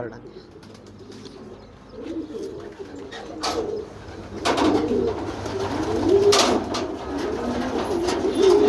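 A blue white flight homing pigeon coos in its loft, low soft throaty calls repeating close by, growing fuller toward the end, with people talking nearby.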